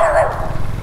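A golden retriever barks on a street in Phnom Penh, Cambodia, a loud, close bark with a whining edge, while people talk nearby.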